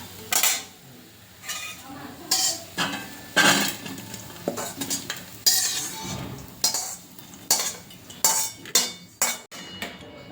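Fried millet rotlo lifted from the pan into a vessel, heard as a busy string of metal clanks, scrapes and utensil knocks against the cookware, fairly close, over a light sizzle with no one talking.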